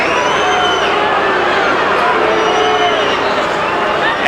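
A large arena crowd at the Lewis vs Holyfield boxing match roars and boos in a steady, dense wash of voices that fills the whole space. A commentator speaks over it.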